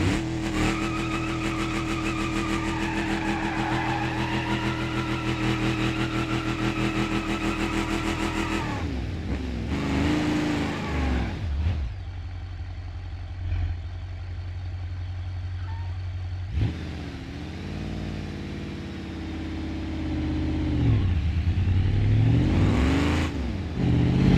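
A truck with a Flowmaster exhaust revs in the BeamNG.drive driving game. A deep, steady engine drone dominates, surging and falling in pitch through several revs and shifts, with no talking.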